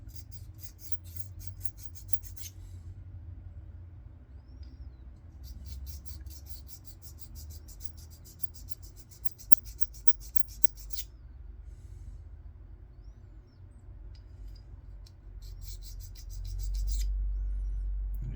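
A 1911 pistol hammer being smoothed with a sharpening stone, rapid rhythmic scraping strokes in three long bursts with quiet pauses between, close and clear over a low background hum.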